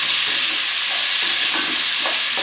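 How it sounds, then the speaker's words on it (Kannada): Peanuts and spices frying in hot oil in a pan, a loud dense sizzle that holds steady from start to finish with faint stirring scrapes inside it. "ಇದೆಲ್ಲದು ಬ್ರೌನ್ ಬರೋ ತನಕನೂ ಫ್ರೈ ಮಾಡಿ."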